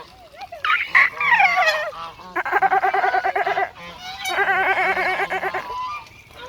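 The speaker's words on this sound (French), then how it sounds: "C'est un canard." Loud, repeated nasal honking calls in several bursts, close by, from a duck in a park; no one speaks.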